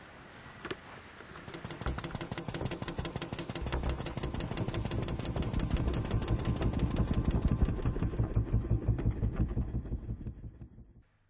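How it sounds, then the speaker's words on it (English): A pump starts up and runs steadily to pressure-test equipment at a work site, a continuous mechanical engine-like drone with a rapid rhythmic pulse that swells after a few seconds, holds loud and near, then cuts off at the end. "I'll start the pump"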